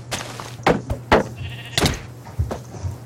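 Several sheep bleats in Minecraft, short nasal calls coming one after another at a quick uneven pace, close and clear against a quiet background.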